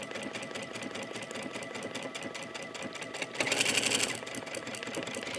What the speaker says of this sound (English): You love it when the machine knows how fast and how slow to go to make a perfect buttonhole.